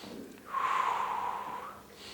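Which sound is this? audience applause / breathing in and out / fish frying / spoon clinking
breathing in and out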